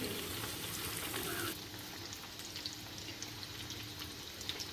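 Egg and meat cutlets frying in hot oil, a soft steady bubbling sizzle that drops in intensity partway through, close and fairly quiet with no voices.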